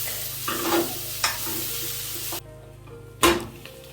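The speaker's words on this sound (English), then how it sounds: "I am going to wait for the onions to turn translucent" Onions frying in a pan until translucent make a steady, faint sizzle broken by a few louder stirring scrapes, then a short, quieter lull with one sharp clatter near the end.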